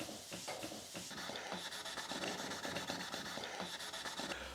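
Cloth rubbing over a guitar body during polishing, a close, faint, repeated scrubbing and rasping in quick strokes.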